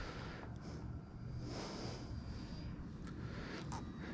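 A large E-Flite Draco radio-controlled STOL airplane flying with its flaps up, its electric motor a faint, distant steady drone with a thin whine rising and fading over a broad outdoor hiss.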